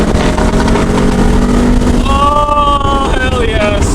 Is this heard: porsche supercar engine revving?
yes